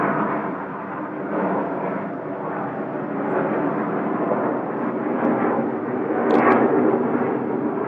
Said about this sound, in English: we got an airplane going over right now